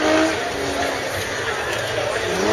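A Jeep Grand Cherokee's engine roars at an extreme 4x4 jamboree, sounding as a loud, steady engine drone blended with crowd noise and a commentator's voice.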